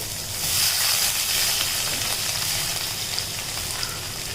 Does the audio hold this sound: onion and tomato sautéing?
yes